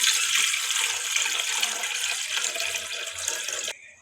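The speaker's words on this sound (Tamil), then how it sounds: "அதில் நம்ம இப்போ தண்ணி ஆட் பண்ணிக்கலாம்." Water poured steadily into a cooking pot for soybean chilli, a loud continuous splashing rush close by that stops abruptly near the end.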